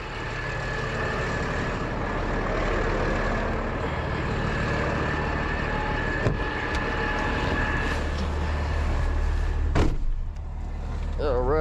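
A truck's engine rumbles steadily and loudly close by as it pulls forward to tow a rolled Dodge Ram pickup carrying a camper out of a roadside ditch, with a few clanks near the end.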